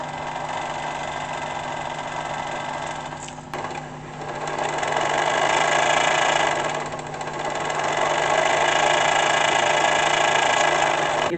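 An Atlantis second-hand sewing machine runs with a steady, fast mechanical whir, briefly dipping near the start before resuming at an even, continuous pace with no talking.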